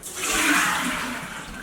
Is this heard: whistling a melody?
no